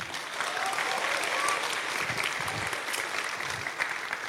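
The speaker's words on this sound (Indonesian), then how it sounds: "Tepuk tangan dulu dong buat guru PAUD nih" An audience at a public lecture applauds an early-childhood (PAUD) teacher, a dense, steady burst of clapping from many hands that fills the room and lasts throughout.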